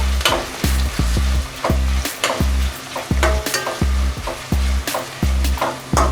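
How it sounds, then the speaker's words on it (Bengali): Onions frying in a kadai for spicy goat head curry, a steady loud sizzle broken by repeated rhythmic scrapes and clanks of a stirring spoon against the pan. "পেঁয়াজটা একটু লাল লাল করে ভাজতে হবে।"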